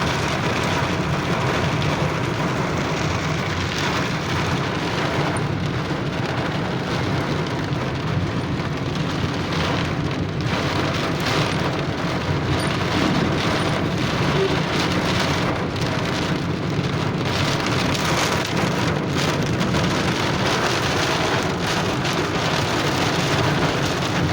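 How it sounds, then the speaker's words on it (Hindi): Heavy rain pouring down in Mecca, a loud, dense and unbroken downpour hissing on surfaces throughout, with no one talking. "आज बड़ी ज़बरदस्त किस्म की बारिश आ चुकी है।"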